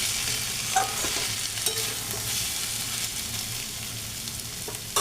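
Shredded fish and pointed gourd fry being mixed in a pan with the flame off, a soft steady scrape and faint sizzle with a few louder spatula knocks near the start and end.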